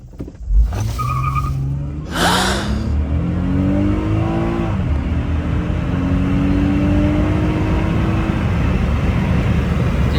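An Acura TL accelerates hard from a stop, the engine revving up through rising pitch sweeps with a brief tire chirp early on, loud and close, steady whooshing road noise carrying to the end.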